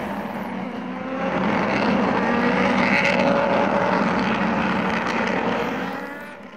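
Race cars roaring through the final at Rafaela before a huge crowd, a loud sustained engine drone that swells as the pack passes and then fades, heard at a distance without speech.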